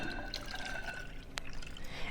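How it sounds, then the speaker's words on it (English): Milk poured into pudding mix gives a soft, continuous liquid trickle with faint drips, quiet and close, without talk. "And then we're going to pour our milk in."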